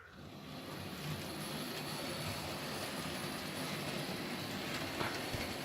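A Bachmann HO scale model locomotive's electric motor runs with a steady, faint whirring hum that holds an even level throughout, with no talk.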